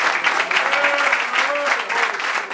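A church congregation applauding, a dense continuous wash of clapping from a large crowd, with a preacher's voice carrying faintly over it.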